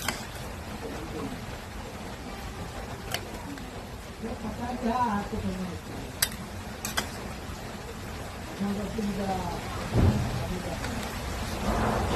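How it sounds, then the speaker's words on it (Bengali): Heavy rain with wind during a storm, a constant wash of falling water with rumbling gusts, while people talk faintly nearby in a kitchen. "বৃষ্টিও হচ্ছে প্রচুর, হাওয়াও দিচ্ছে প্রচুর"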